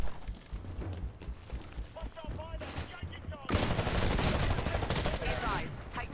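Rapid automatic gunfire crackles through a Titanfall match on Xbox One, dense bursts that swell into a louder sustained barrage midway, with game voices talking under the shooting.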